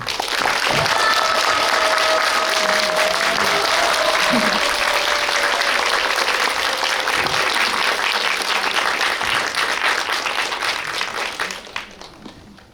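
A cinema audience at a film screening and talk at CGV Yongsan claps loudly to welcome the director and actors of 한국이 싫어서, with sustained dense applause, a whistle or cheer near the start, and a quick fade near the end.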